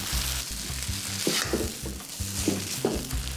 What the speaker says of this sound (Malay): Gaul cepat-cepat atas api yang besar sampai semua bahan ni sebati